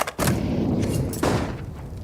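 Two loud, close gunshots crack out in a Counter-Strike match on Nuke, the second coming about a second after the first. Each has a sharp attack and a short, rumbling tail.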